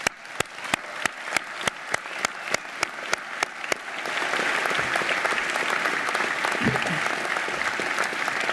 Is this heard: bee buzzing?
no